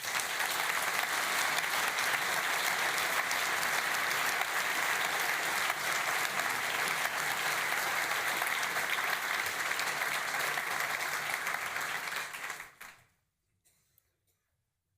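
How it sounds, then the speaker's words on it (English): Sustained audience applause at the opening ceremony of the 53rd St Gallen Symposium, a dense, even wash of many hands clapping for about twelve seconds before cutting off abruptly into near silence. "I think they deserve a big round of applause"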